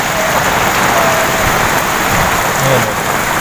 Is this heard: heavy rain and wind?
yes